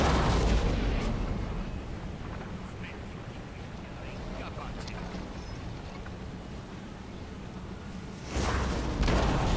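Cannon artillery fires in the Napoleonic battle game Napoleon Total War, with broad, booming blasts at the start and again near the end over a steady battlefield rumble.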